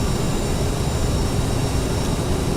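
A steady, loud broadband roar of a CRJ-900 jet engine in the FSX flight simulator, droning continuously with no change in level.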